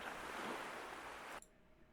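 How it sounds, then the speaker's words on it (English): Ocean waves in a video game, a steady, soft rush of surf and wash that holds for over a second and then cuts off abruptly to near silence. "The ocean sound."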